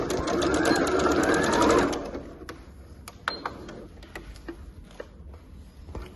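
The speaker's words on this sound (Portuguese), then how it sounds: "retrocesso pra arrematar minha costura" A sewing machine stitches a seam steadily for about two seconds, then backstitches to lock it off before stopping. Scattered clicks and handling of fabric follow.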